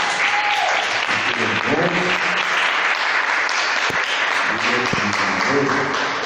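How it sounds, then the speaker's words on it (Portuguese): Sustained congregation applause for Jesus in a Portuguese-speaking church, a thick, even roar of clapping with voices speaking over it. "dando uma salva de palmas para Jesus"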